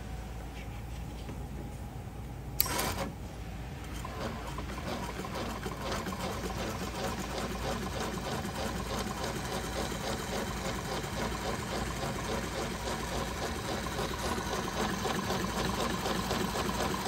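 A Juki LZ2290C industrial sewing machine with a reeding E-stitch guide runs steadily, giving a continuous rapid mechanical whirr and patter after one brief click near the start.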